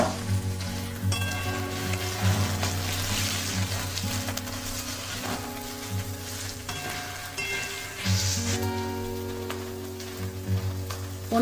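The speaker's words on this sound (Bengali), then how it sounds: "আলুগুলো একটু লাল লাল করে ভাজবো" Potatoes and tomato fry in hot oil with turmeric and salt, producing a loud, continuous sizzle with crackling bursts and occasional stirring scrapes, no voices.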